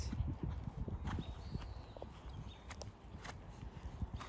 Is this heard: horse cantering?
yes